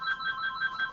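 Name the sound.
phone ringing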